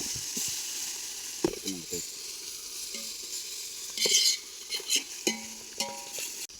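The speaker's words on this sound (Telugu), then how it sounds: "వెల్లుల్లి పేస్ట్ బాగా పచ్చి వాసన పోయేదాకా బాగా వాసాలా" Garlic paste fries in a pan for an egg thooku, giving a steady close sizzle broken by a few sharp spoon scrapes and clinks against the pan, with no voices.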